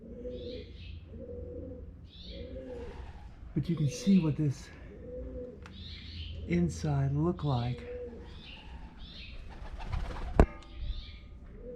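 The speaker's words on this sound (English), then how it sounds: "of course there's lots of pigeons and stuff" Pigeons coo in a repeated, soft, rhythmic pattern inside the adobe Casa Grande ruins in Coolidge, Arizona, close and echoing. Someone talks over them partway through, and a sharp knock sounds near the end.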